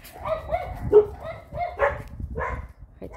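A dog in Dnipro barks and whimpers a few times in short yips, mixed in with someone talking nearby.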